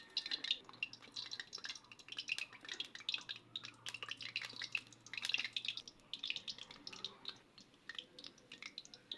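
Lentil fritters (bora) fry in warm oil, a soft continuous crackle and sizzle of small irregular pops, fairly faint and close, with no talking.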